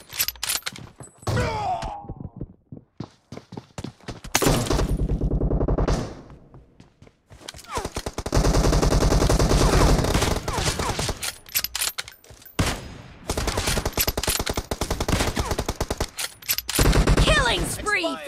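PUBG Mobile gunfire from a Kar98 rifle challenge, loud shots and heavy bursts of fire coming in bouts separated by short quiet gaps, with in-game voice callouts among them.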